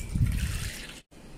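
Water is poured from a glass into a bowl for paratha dough, a close, steady trickling splash lasting about a second before stopping abruptly.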